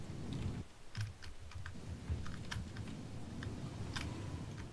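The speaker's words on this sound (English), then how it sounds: "Mud, why do I hear you typing as soon as I say that" Typing on a computer keyboard heard during a Fortnite session, with rapid, irregular key clicks and taps close to the microphone over a steady background hum, and no one speaking.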